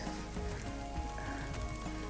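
Rain falls at Dorothea Quarry in Wales as a faint, steady, hissing patter that stays even throughout, with no voices.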